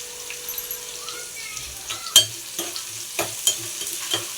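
Cumin seeds fry in a pan with a soft, steady sizzle while a utensil stirs them, giving scattered scrapes and clinks, one louder knock partway through. No one speaks.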